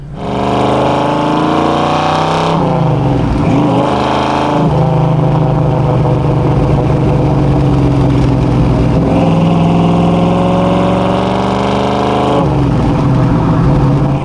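A 1968 Chevrolet Camaro SS with a 427 cubic inch, 7-litre V8 and manual gearbox roars loudly on the move, its engine rising and falling in pitch through several long pulls and gear changes.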